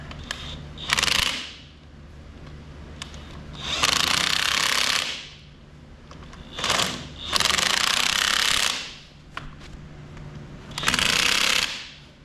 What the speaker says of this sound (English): let's go ahead and get this tire tightened up.